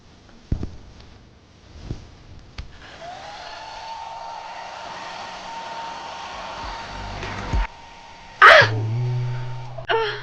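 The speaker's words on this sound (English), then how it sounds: "The hairdryer got stuck in my hair." A hair dryer blows steadily with a whirring hum, interrupted by brief bumps and a sharp change in pitch near the end.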